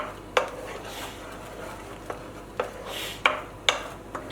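A utensil scraping and clinking against a pan while scrambled eggs are stirred, several sharp taps spaced irregularly over a faint background hiss.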